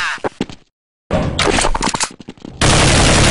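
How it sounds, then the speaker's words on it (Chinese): Rapid gunfire in Counter-Strike during a pro match on the Nuke map: loud close bursts and sharp cracks, then a short silent gap, then dense rattling automatic fire ending in a sustained loud blast of noise. "尊帝架枪瞬间三杀到手"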